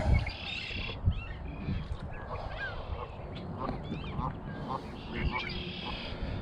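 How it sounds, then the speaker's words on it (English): Several geese honk repeatedly in short, nasal calls in springtime in Alberta, some near and some farther off, over a quiet outdoor background. "it's nice to see geese in the springtime there"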